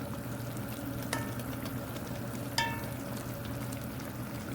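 Chicken and tomatoes frying in a karahi, a steady soft sizzle with two sharp clinks of a spoon against the pan, no talking.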